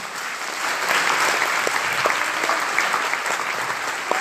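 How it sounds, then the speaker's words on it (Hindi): A crowd applauds with sustained, enthusiastic clapping that fills the space for several seconds. "सारे लोगों के लिए एक जबरदस्त ताली होना चाहिए"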